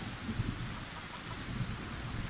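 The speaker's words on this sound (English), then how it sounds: "it's going to keep the rain off of our heads" Steady rain with low rumbling thunder during stormy weather in the video game Skyrim, a continuous wash of rainfall at moderate level with faint deep rolls underneath.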